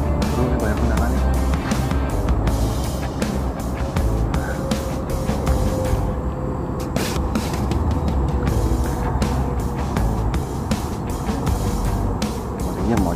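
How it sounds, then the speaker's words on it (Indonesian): Road traffic at the Muara Kamal fishing spot: a steady wash of many vehicles passing close by, with engines rising and fading under a constant roar. "Terus ini banyak kendaraan nih."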